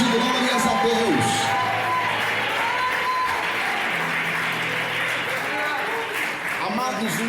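A church congregation claps loudly and continuously. Voices cry out and sing over the sustained applause, and a person speaks throughout.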